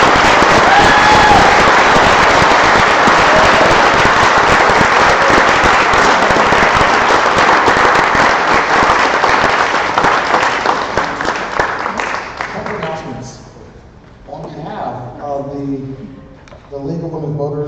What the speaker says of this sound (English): You may now clap.